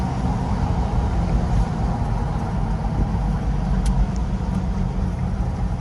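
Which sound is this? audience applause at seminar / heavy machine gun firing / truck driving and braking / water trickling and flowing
truck driving and braking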